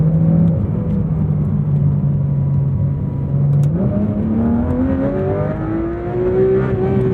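A Porsche sports car engine with a PDK transmission, driven on a wet road, revs up loudly and smoothly toward its high redline. Its pitch climbs steadily and strongly with no speech.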